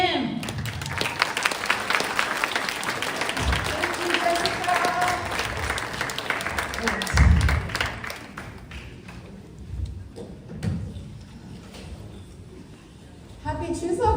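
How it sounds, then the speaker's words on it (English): Audience applause for a performer at a community Chuseok event, a dense burst of clapping with some cheering that gradually thins out, followed by quieter room sound and a few voices. "So everybody, a round of applause for Joanne Lee Kim."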